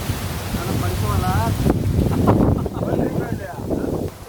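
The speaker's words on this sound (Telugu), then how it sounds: "గాలి కూడా ఎక్కువ వస్తుంది" Strong wind buffets the microphone on a hilltop campsite, a steady close rumble with gusts under ongoing talk while tandoori chicken is prepared.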